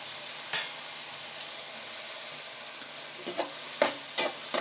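Onions and tomato frying in a pan, a soft steady sizzle with a few scattered scrapes and clinks of stirring toward the end.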